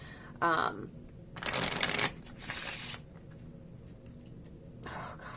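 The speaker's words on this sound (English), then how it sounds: "I love the way the linen cards shuffle." Small linen tarot cards being shuffled up close, in several short bursts of crisp riffling and soft flutter separated by brief pauses, fairly quiet, with no one talking over them.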